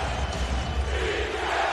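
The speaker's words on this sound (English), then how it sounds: "It's like a playoff atmosphere every night in Portland with this crowd" A basketball arena crowd in Portland roars in a steady, loud, sustained wave of cheering and shouting during a tense late-game moment of a Trail Blazers vs Magic game.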